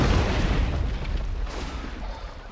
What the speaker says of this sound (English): Sounds like cannon fire again.